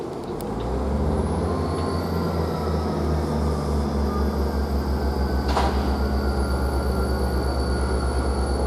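Class 165 diesel unit 165116 moves through Basingstoke station with a steady, fairly close engine drone and a rhythmic rolling rumble, plus a brief sharp clank partway through.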